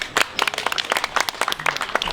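Wedding guests break into a brief burst of scattered hand claps, close and moderately loud, with no talking.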